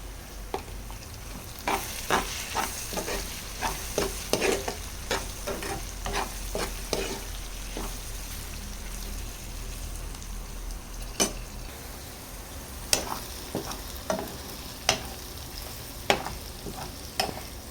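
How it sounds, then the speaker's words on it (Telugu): Ivy gourd, tomatoes and onions fry in a pan with a steady low sizzle, punctuated by repeated sharp scrapes and clinks of a spoon stirring, busier early and sporadic later. "దొండకాయలు టమాటాలు ఆనియన్స్ అన్నీ ఫ్రై అయ్యాక"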